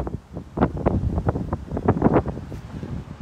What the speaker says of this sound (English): the wind is blowing all the leaves, flowers off of this tree